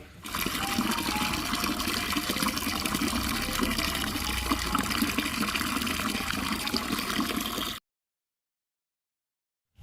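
Water gushes steadily into a large ten-kilo cooking pot for rice, a loud, continuous pouring rush that runs for several seconds and then stops abruptly.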